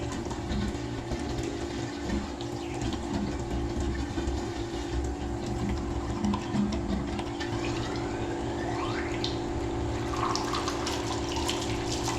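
Water is poured in to prime a water pump, a steady close splashing and trickling flow that runs continuously beneath a constant mechanical hum, with no talking.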